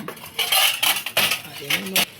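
Stainless steel cooking pots and vessels from a set clink and clatter as they are handled, with several sharp metallic knocks and a short ringing scrape at close range.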